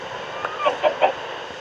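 Three short clucks from a Minecraft chicken in quick succession, fairly close, over a faint steady background hiss.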